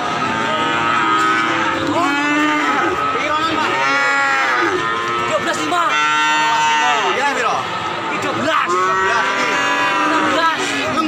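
Cattle at the Pon cattle market in Blora, Indonesia, lowing loudly and almost continuously, several animals mooing over one another amid a busy crowd with people talking.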